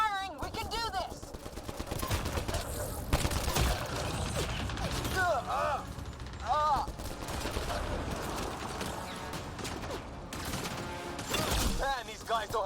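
Battle gunfire in the video game Mass Effect Andromeda, with bursts of shots and rapid fire mixed with mechanical clanks and creaks, busy and layered throughout, with occasional voice sounds.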